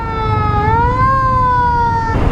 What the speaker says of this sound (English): Seems to be a few ambulances out today.